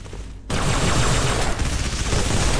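Rapid, sustained SMG fire in a Halo MCC free-for-all match starts abruptly after a quieter moment and continues as dense automatic gunfire, loud and unbroken.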